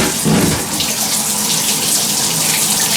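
Water runs steadily down through the valve casings of a euphonium during cleaning, a continuous close splashing trickle with a brief gurgle near the start.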